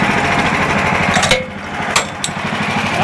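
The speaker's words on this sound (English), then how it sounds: "Got gas in it? It's probably low. Might be why it's backfiring." A small engine powering a sawmill runs steadily with a rough, chattering drone, low on fuel and running lean, with a few sharp popping backfires breaking through near the end.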